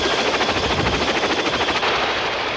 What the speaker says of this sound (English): The US Marines also make extensive use of the Boeing Vertol CH-46 Sea Knight tactical transport helicopter.